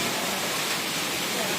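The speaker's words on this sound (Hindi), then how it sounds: "Now here the sound of waterfall." Close, steady rushing of a waterfall and flowing water in hilly countryside in Tripura, India, a dense hiss of broadband noise with no break for the whole short stretch.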